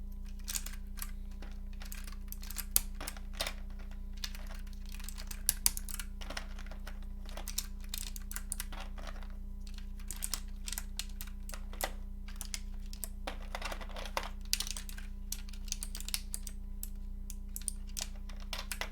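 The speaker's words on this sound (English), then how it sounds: "This is when you know you've put keycaps on a lot." Keycaps pressed onto a KBD8X MKII custom TKL keyboard with BOX Pale Blue switches, giving a steady stream of close, light plastic clicks and taps over a constant low hum, with no talking.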